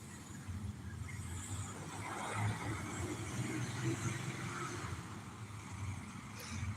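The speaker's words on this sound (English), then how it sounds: "That sounds like some type of government vehicle there" A large government vehicle rolls past on a downtown street by a park, its steady low engine rumble and road noise filling the scene at moderate distance for several seconds without talk.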